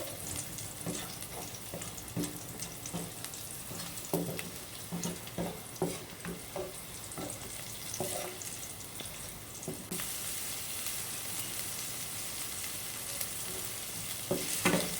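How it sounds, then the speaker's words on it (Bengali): Onions with whole cumin seeds frying in a pan, continuous sizzle with repeated stirring scrapes and clinks through the first half, then a denser, brighter hiss of oil toward the end, no voices. "ভালো করে একটু নাড়াচাড়া করে ভেজে নিতে হবে পেঁয়াজগুলো"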